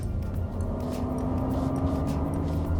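Artificial sport-mode sound from a Toyota Mirai hydrogen fuel-cell car, a steady synthetic spaceship-like hum with a sustained droning tone, moderately loud and continuous throughout, no talking.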